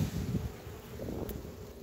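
A small honeybee colony at its hive fills the air with a soft, continuous buzzing hum, mild wind rumbling at the microphone and no speech.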